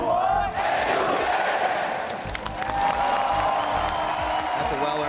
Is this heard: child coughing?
no